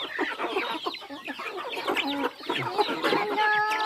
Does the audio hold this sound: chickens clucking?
yes